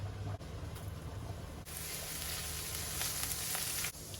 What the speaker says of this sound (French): je fais revenir l'ail